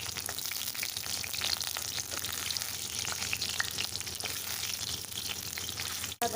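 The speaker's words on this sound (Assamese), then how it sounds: "এতিয়া পকৰিখিনি মই এটা এটাকৈ উলটাই দিম।" Onion pakoras frying in hot oil over a medium flame while being turned one by one: a dense, steady crackling sizzle close up, with faint scrapes from flipping, ending in a brief cut.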